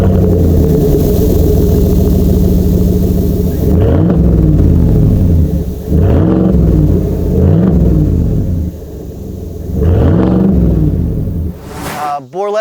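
A supercharged 2025 Chevrolet Tahoe, 5.3L/6.2L with a Whipple supercharger and Borla S-Type exhaust, rumbles steadily and gets several short revs, then a sharp rise at the end; the engine is close and loud, with talk over it.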